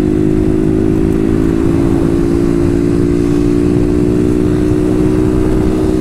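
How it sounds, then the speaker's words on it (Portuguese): Two-stroke motorcycle engine running steadily and loud up close, a constant buzzing drone with a slight rattling ping mixed in, no talk over it. "A moto começou a grilar, pessoal."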